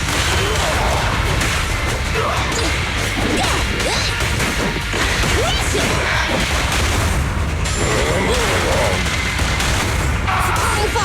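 Explosions and whooshing blasts of supporting fire in a combat scene from the video game Zenless Zone Zero, dense and continuous, loud booms and swishes layered under a constant wash of game noise.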